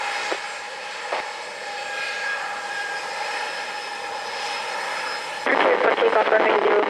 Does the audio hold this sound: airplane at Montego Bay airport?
yes